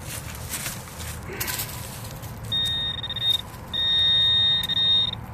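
A metal detector sounds its steady electronic tone over a buried copper target during metal detecting, two sustained beeping rings with a brief gap between them, over faint scraping and movement.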